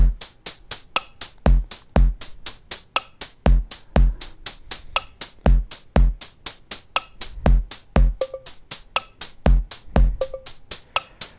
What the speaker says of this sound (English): Last but not least, we got this lo-fi tech kit